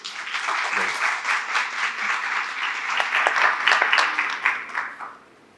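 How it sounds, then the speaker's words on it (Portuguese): Sustained audience applause at a regulatory conference session, greeting a speaker; full, dense clapping that swells slightly before fading out near the end. "Por favor, uma salva de palmas, pessoal."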